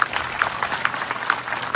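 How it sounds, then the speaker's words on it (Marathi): An audience claps at a speech event: a brief burst of many hands clapping, fairly even and moderately loud, with no voices. "त्यांच्यासाठी एकदा तुम्ही टाळ्या वाजवल्या पाहिजे."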